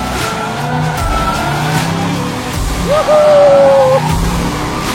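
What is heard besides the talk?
car drifting with tires skidding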